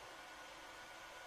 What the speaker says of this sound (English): that is the sound of the 3D printer that I built on my vacation